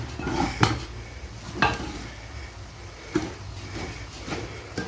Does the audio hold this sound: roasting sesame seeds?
yes